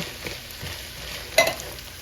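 Chickpeas (garbanzo beans) being stirred in a pan, a soft, low sizzle running steadily throughout, with one brief louder scrape of the spoon partway through.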